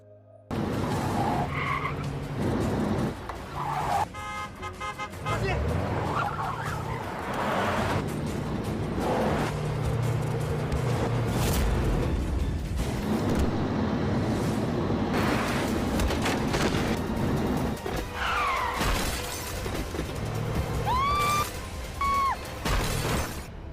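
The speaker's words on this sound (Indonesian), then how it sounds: "terjadilah balapan liar di antara pasukan elit dan si Peng yang menaiki mobil Kasimo" Cars tear through a wild street race in a film, with screeching tire squeals, skids, roaring engines and the odd crash or shatter. The mix stays loud and busy throughout.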